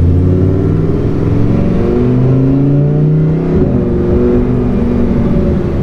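A loud Lamborghini sports car engine drones steadily from inside the car, its low rumbling pitch rising and shifting as it accelerates, with no talking.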